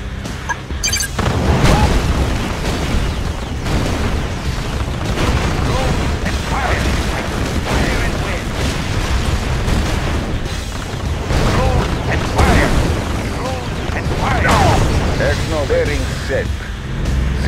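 In the Red Alert 2 video game, Soviet airships drop bombs that burst in dense, rumbling booms under ongoing battle noise. Unit voice acknowledgements cut in over the bombardment.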